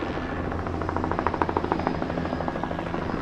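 A helicopter climbs above a city, its rotor chopping in a steady pulsing rhythm that swells loud and close in the middle before easing back, with no voices.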